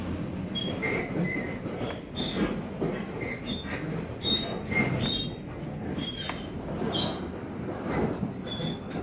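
The Overland long-distance passenger train rolls on its rails, wheels rumbling steadily and squealing in repeated high metallic notes scattered across the run, close and moderately loud, with no voices.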